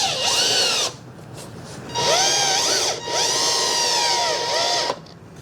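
A cordless power drill drives screws into a wooden hay rack, motor whining in three loud bursts that rise and fall in pitch, with short pauses between them.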